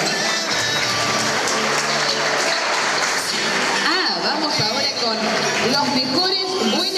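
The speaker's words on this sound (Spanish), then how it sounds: "Fuerte el aplauso." Loud applause at a sign language course diploma ceremony, continuous crowd clapping mixed with speech and chatter in the room.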